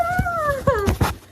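Young puppies whimper and whine close by, two rising-then-falling high cries followed by short soft yips and snuffles, with no speech.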